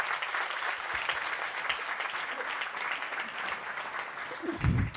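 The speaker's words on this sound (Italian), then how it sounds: "un applauso" Steady applause from the audience at a national literary prize ceremony in Trecastagni, many hands clapping at an even, moderate level throughout, with a soft thump near the end.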